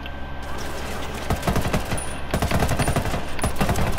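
Rapid automatic gunfire in Ghost Recon Wildlands, a loud, close stream of shots rattling in quick bursts over a steady background hum.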